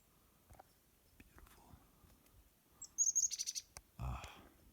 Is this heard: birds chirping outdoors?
yes